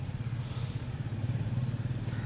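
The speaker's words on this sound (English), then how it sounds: "a couple of police or potentially security have just ridden by motorbikes" Police or security motorbikes ride past near a park and mall in Kuala Lumpur, their engines a faint, distant low rumble that rises and falls gently.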